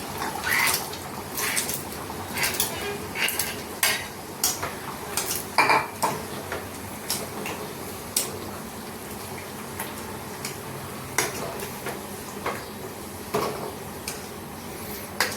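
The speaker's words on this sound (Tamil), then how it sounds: "இப்போ இந்த பயத்தம் பருப்பு இதை இதில் போட்டுடலாம்." Moong dal tipped into a boiling pot of kootu and stirred, with repeated scraping and clinking of a ladle against the metal pot over a low bubbling simmer, no voices.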